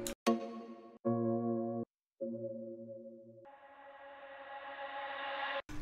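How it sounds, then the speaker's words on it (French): Instruments drenched in heavy reverb and played in reverse swell up in separate tonal blocks with abrupt cutoffs, building into a rising sustained wash in a French pop remix, clear and alone. "c'est tout simplement tous les instruments avec beaucoup de reverb joués en reverse tout simplement."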